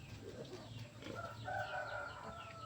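Hens in a Filipino backyard brood pen, where mother hens have recently hatched chicks, give soft repeated clucks and a few higher calls at moderate distance over a steady low background hum.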